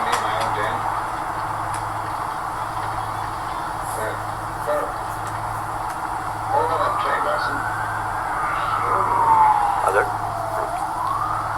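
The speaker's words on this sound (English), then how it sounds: "They flipped on their sirens." A police or emergency vehicle siren wails in the distance, rising and falling over a steady engine hum and traffic noise outdoors, with a low idling drone underneath.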